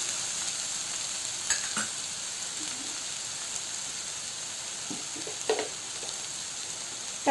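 Ridge gourd frying in a pan: a steady soft sizzle hisses throughout, with a few faint stirring clinks and scrapes scattered over it and a louder knock at the very end.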